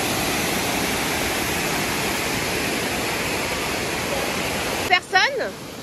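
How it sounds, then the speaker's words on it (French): Heavy tropical-storm rain in Jamaica pours as a dense, steady hiss throughout, with a brief voice breaking in near the end. "la pluie qui était bien plus soutenue qu'une simple pluie"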